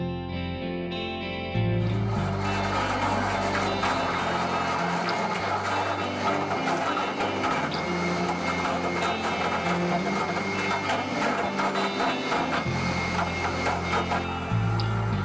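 An Admix FlowShear bottom mount mixer runs while hydrating Carbomer, giving a loud, steady mechanical drone with rattling and grinding texture that begins after a short quieter opening and continues throughout.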